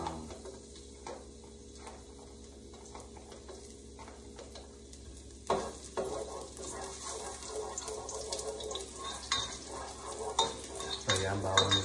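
Garlic sizzles and fries in a pan while a spatula stirs it, with steady crackling, sputtering and clinking throughout, growing louder in the second half, close and clear with no talking.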